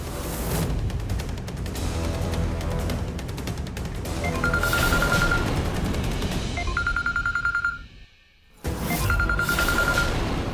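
A phone rings in repeated trilling bursts over loud rapid clattering, with a brief drop to near silence before the noise resumes.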